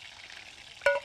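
Chicken schnitzel deep frying in oil gives a soft, steady crackling sizzle, then a brief louder hiss and pop near the end.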